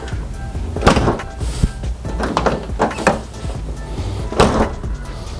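A Mk3 Toyota Supra car door shuts with a solid thunk, followed by a few lighter knocks and handling sounds nearby.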